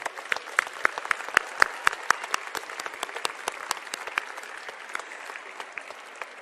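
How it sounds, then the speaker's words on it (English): An audience at a world peace gathering with a concert claps for volunteer governors, the applause moderate and even, with crisp individual claps standing out from the steady patter. "So please, a warm applause to all of our volunteer governors."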